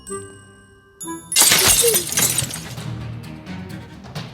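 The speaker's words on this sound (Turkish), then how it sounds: "Şuradan cam kıralım." Glass smashing in the video game Dark Riddle: a sharp, loud shatter after a brief tone, followed by tinkling shards and debris fading out over a few seconds.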